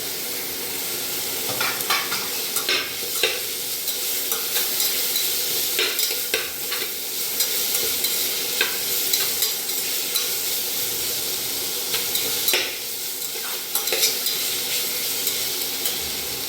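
Chopped tomato stir-frying in a pan with garlic-coriander paste for a veg matar pulao, a steady close sizzle with scraping stir strokes throughout, no voices.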